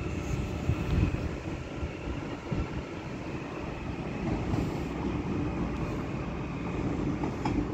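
A Ryanair airliner departs Manchester Airport, heard as a continuous distant engine roar and low rumble, moderately loud and steady, with no talk.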